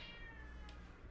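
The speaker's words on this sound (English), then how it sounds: "I don't know if you can hear my cat crying outside the door." A house cat meows from outside a closed door, a single drawn-out cry heard faintly and muffled under a steady indoor hum.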